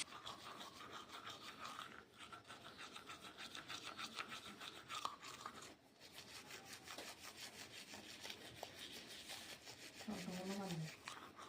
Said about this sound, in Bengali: তো ফার্স্টে আমি ব্রাশ করে নিই।